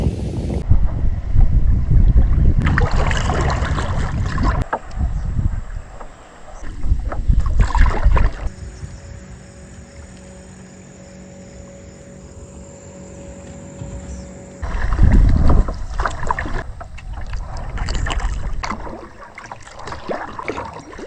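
A kayak is paddled solo across Dutch Hollow Lake on a calm, light-wind afternoon, with steady splashing strokes and water swish, a quieter stretch with a faint steady tone in the middle, then paddling again.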